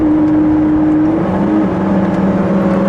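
A 2017 Ford GT's 650 HP twin-turbo V6 with a seven-speed ZF gearbox revs after a downshift, a loud steady engine drone with a rising then shifting tone, heard from close up inside the car.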